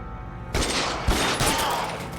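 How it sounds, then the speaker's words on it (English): Gunshots fired in a detective video game, an abrupt loud blast followed by a second sharp shot about half a second later, with ringing reverberant tail. "I'm gonna shoot this man right in the kisser."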